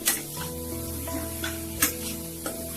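Chili powder and garam masala fry in a pan with tomatoes for a drumstick curry, giving a steady soft sizzle broken by a few sharp scrapes of stirring.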